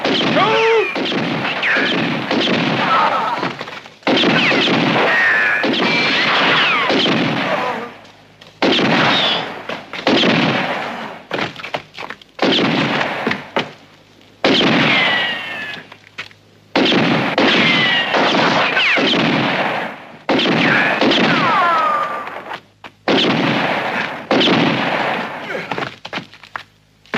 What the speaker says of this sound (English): Come out shooting! Keep shooting!